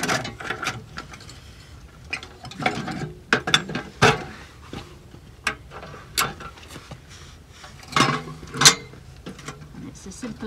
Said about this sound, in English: As simple as that to pop the legs out